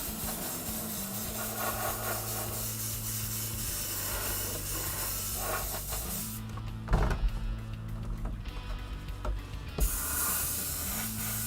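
An airbrush sprays paint onto an RC car body, giving a steady close hiss with a low compressor hum under it and a few brief louder bursts near the end.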